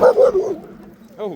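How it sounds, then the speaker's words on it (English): A dog in a passing truck on a coastal cycle way gives one short, bright bark, after a person's brief exclamation. "that was a dog passing by in a truck"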